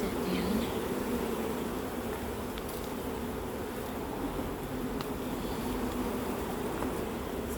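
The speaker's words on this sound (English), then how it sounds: "They smell that queen's down there." Honey bees at a hive during winter preparation hum in a steady, close, continuous buzz that fills the whole stretch, with no voices over it.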